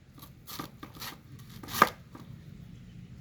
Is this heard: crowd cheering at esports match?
no